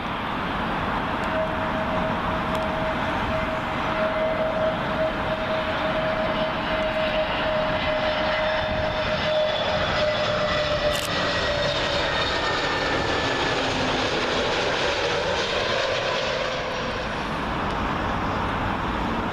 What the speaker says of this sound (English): Next to arrive in British Airways A320neo.